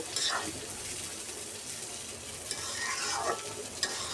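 Chopped bottle gourd frying with a mustard seed tempering, stirred continuously in the pan with a dense close sizzle and scraping strokes, plus a couple of light utensil knocks.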